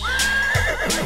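A horse whinnies in a long, wavering neigh that rises then trails off, loud and close, with no talk over it.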